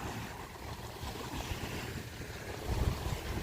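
Ocean water washes onto the shore at Smyrna Dunes Park in New Smyrna Beach, Florida, at sunrise, a steady broad rush of surf with light wind noise, swelling slightly toward the end, with no voices.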